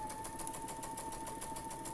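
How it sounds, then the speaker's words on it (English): A sewing machine stitching quilt pinwheel block pieces together runs at a steady, rapid, even rhythm. It sounds fairly quiet and close, with no talking over it. "I'm going to sew the first two together."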